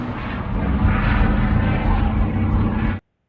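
A Spitfire and a Heinkel aircraft in the war film Dunkirk roar loudly in a dense, steady engine drone that cuts off abruptly into silence after about three seconds.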